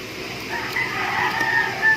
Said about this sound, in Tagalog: ang ingin ng mga manok